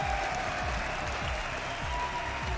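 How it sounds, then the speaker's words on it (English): A crowd applauding at an esports match, the BLAST Premier Fall Final 2021 Counter-Strike game between Liquid and NIP, a steady wash of clapping heard from a distance under a faint broadcast tone. "Round of applause."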